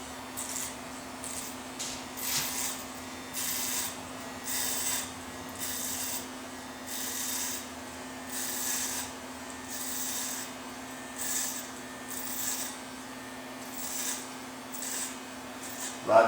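Electric hair clipper buzzing steadily at close range while cutting a forward faded military haircut, a constant hum with repeated rhythmic rasping strokes pulsing about once per second.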